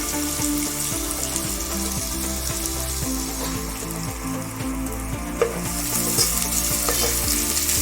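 Finely chopped onions fry in hot oil with crackling cumin seeds, a loud, continuous close sizzle with a brief stir partway through and the hiss swelling slightly toward the end.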